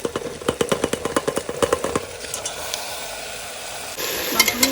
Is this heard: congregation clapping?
no